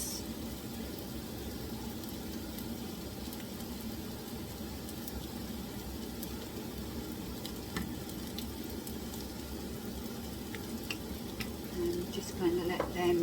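Onions fry in a pan with rendered bacon fat, giving a constant soft sizzle with occasional scrapes of stirring and a light clink of utensil near the end.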